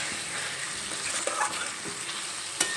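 Spoon stirring a water-mixed spice paste into a simmering egg and potato curry, a steady close sizzle with soft scraping strokes and a brief clink near the end.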